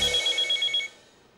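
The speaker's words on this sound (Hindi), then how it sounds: "रघुनाथ जी का फोन" An old-fashioned telephone bell rings in a domestic Hindi TV drama scene, a rapid double-pulsed trill repeating about six times, fairly loud, then stopping abruptly and fading into quiet room tone.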